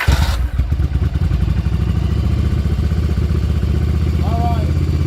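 A Yamaha Virago 750 chopper motorcycle idles steadily at high idle after a sharp starting burst, a loud, close, even rumble that runs throughout.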